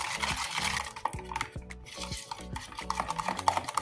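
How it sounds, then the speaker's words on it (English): Spoon stirring blueberry pierogi filling with sugar into a creamy paste in a bowl, steady rhythmic scraping and clinking strokes, close and moderately loud, with no talk. "now you need to mix that well, so it's going to be a creamy paste"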